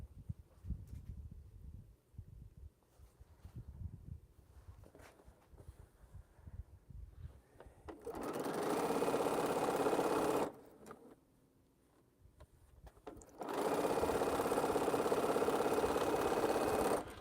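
A sewing machine stitches quilt pieces in two bursts of steady buzzing whir, each a few seconds long with a pause between, following a stretch of quieter handling noise.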